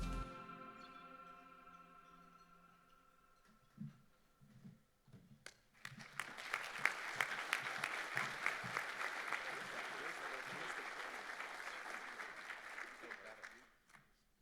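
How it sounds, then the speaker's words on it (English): An audience at a downtown civic event breaks into a long round of applause after a held musical tone and a few scattered claps, the clapping swelling full and steady before cutting off. "give him one more round of applause"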